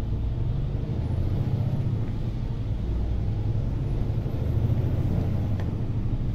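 A truck pulls away on a wet road, its steady low engine rumble loud and close throughout, with a faint hiss of spray and a brief air-brake-like release.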